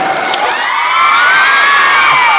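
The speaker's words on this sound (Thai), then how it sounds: "เสียงปรบมือแล้วก็เสียงกรี๊ดที่ดังมาก" A concert audience at a Valentine's love song show cheers and screams loudly, a dense, continuous wall of high-pitched shrieks and shouting that swells slightly toward the end.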